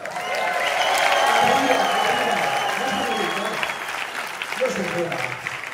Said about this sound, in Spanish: ¡Un aplauso de arriba!